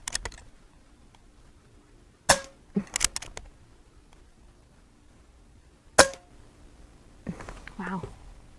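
A Diana Stormrider .177 air rifle fires slugs, each shot a sharp, close crack. Three main shots are spaced seconds apart, with softer clicks of handling between them and brief low talk near the end.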